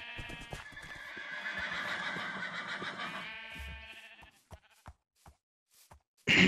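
A horse in Minecraft whinnies in a long, bright, wavering call for about three seconds, followed by a few sparse clicks and a sudden loud burst at the end.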